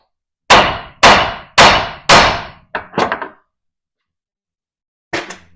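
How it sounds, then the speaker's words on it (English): A hammer smacks the steering knuckle knob on a 1999-2006 Chevy/GMC truck tie rod: four loud, evenly spaced metallic blows, then a few quicker lighter taps, a pause and one last hit, with no talk. "I like to smack that with a hammer."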